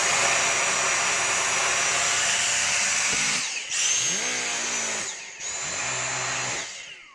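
A Dyson V6 cordless vacuum cleaner with a new battery runs with a loud, steady high-pitched whine, then its motor pitch drops and swoops twice as it is cycled or shifted, sounding close by.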